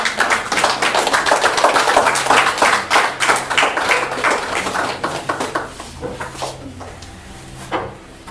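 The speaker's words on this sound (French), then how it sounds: "On applaudit le Seigneur." A church congregation claps in praise of the Lord, starting with dense, rhythmic clapping that gradually thins to scattered claps and fades near the end.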